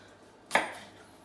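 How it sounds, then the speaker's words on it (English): A single sharp knife chop through peppers on a cutting board, crisp and close, followed by a brief fading rustle. "So we're now on to chopping up those peppers."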